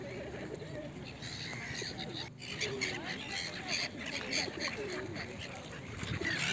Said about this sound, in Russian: Кормят уточек.